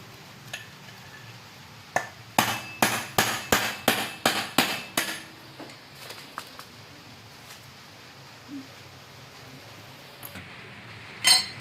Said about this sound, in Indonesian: Oke, kita kembali pahat lagi.